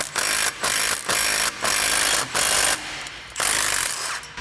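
Loud pneumatic ratchet or impact gun loosening an M8 x 1.25 bolt to pop a rotor off a Toyota hub, firing in repeated half-second bursts with short gaps, close and harsh.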